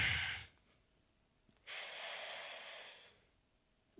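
An instructor exhaling while folding forward in a breathwork and movement session: a sharp nasal breath, then a long, steady, breathy exhale lasting over a second, close and clear with no talking.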